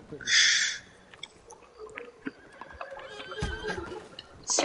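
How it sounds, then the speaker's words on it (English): A horse in Red Dead Redemption 2 gives one sharp, loud whinny at the start, followed by quieter scuffling and thuds. "a horse just kicked him in the head"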